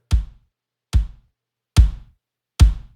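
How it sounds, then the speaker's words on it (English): Roomy kick drum sample for a church mix, struck four times alone at an even, unhurried pace, each hit a boomy knock with a short room tail. "I did blend in our kick sample. This is just more of a roomy sample."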